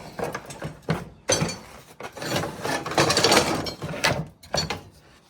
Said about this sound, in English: Just found this little gem. Meat slicer. Like it folds down.